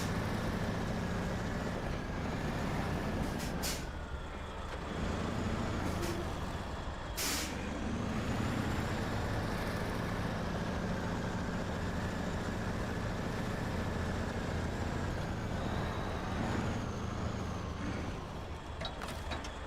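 A heavy truck in the off-road game Snowrunner rumbles steadily with a low, continuous engine drone, punctuated by a few sharp hissing bursts like air-brake releases, with no talking.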